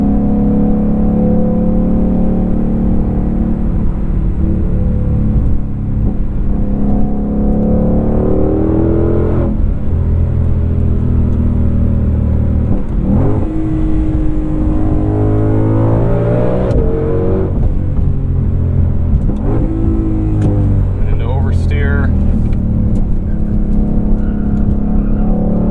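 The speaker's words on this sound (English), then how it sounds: "Get the exhaust up here in track mode." A 2021 Ford Mustang Shelby GT500 with its exhaust in track mode, loud and close, a deep continuous rumble that rises and falls through several revving pulls and gear changes, with no talking.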